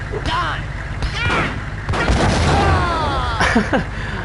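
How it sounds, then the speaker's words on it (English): A grenade blast and its aftermath in the video game Max Payne: loud, rumbling booms and crackling bursts fill the scene, layered with game voices and effects. "Look at that massive explosion on the ground."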